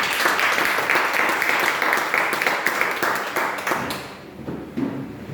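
Church congregation at a Baptist service clapping together in a dense, sustained round of applause that thins and fades toward the end.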